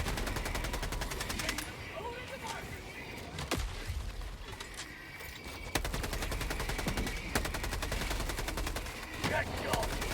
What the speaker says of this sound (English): Okay, he's gonna call on that machine gun now.